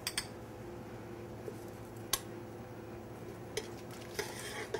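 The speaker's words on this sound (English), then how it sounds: "You want to just keep moving it around and incorporate the butter." Butter being stirred into a pasta sauce with wild mushrooms and roasted garlic in a pan, a soft continuous sizzle with a few sharp utensil clicks against the pan.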